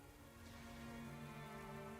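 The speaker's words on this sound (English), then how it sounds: "Maybe it's just raining in the zone while we're here." Steady rain pouring down in a World of Warcraft zone, a continuous even hiss of falling drops with a faint tonal hum underneath, no voices.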